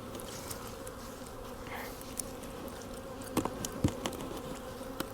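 Honeybees buzzing at a hive during a late winter check after pollen patties are set near the brood area, a steady close drone with a few sharper knocks and bumps near the end.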